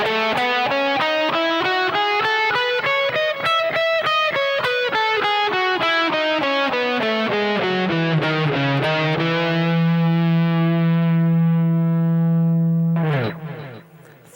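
Distorted electric guitar plays a diatonic major scale note by note, climbing then descending at an even pace, ending on a long ringing root note before a final strum, all without accompaniment.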